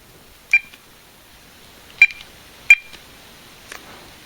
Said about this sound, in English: I got a dial tone here.